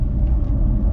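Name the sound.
Porsche Taycan Cross Turismo 4 driving at full power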